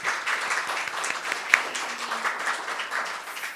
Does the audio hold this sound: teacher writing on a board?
no